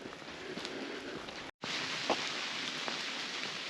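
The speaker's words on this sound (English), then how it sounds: "Still quite the little drizzle we got going on." Light drizzle falling through a forest grove on a hillside walk, a steady soft hiss of rain with occasional distinct drop taps, close and even throughout, briefly cut off near the midpoint.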